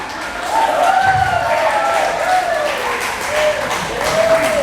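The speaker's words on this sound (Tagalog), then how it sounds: "Kaya agad ang halata sa palakpak yan" Church audience at a Saturday group gathering in Hong Kong applauding, a steady wash of many hands clapping under a voice speaking over it, fairly loud and continuous throughout.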